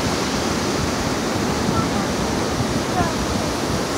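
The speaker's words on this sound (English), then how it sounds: "The San Clemente Beach at sunset." Waves at San Clemente Beach at sunset make a continuous broad wash of surf, steady and fairly loud, with no distinct breaks.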